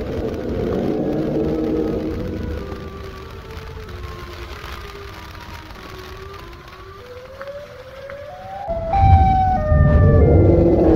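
A sirenet creature in a Siren Head horror game gives a wailing, gliding siren that rises and falls, growing louder and harsher near the end over a whirring background.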